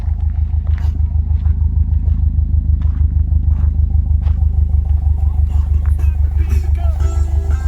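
A car engine idles with a loud, close, rapidly pulsing exhaust burble that stays steady throughout, with faint voices and clatter in the background.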